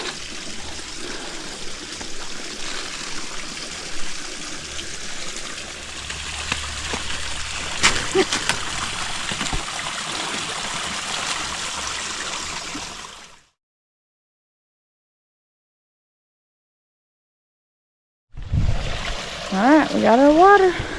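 A small mountain stream flows steadily on a hiking trail, a continuous close trickle and babble that cuts out midway, then returns with a voice speaking over it.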